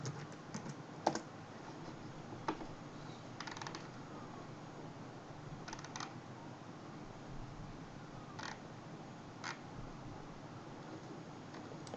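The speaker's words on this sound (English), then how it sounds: "I type it walking." Keyboard typing in a quiet room, several brief bursts of soft clicking spaced across the clip, faint and close against a low steady hiss.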